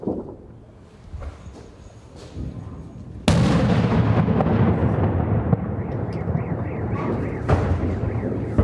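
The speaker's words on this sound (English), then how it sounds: "The city is still being bombed." Artillery explosions pounding Mariupol during heavy bombardment: a quiet rumbling stretch breaks into one sudden loud blast, followed by sustained booming, crackling and rolling thunder-like noise.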